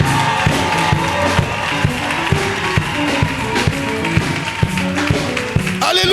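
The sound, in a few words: church congregation acclaiming God with applause and cheers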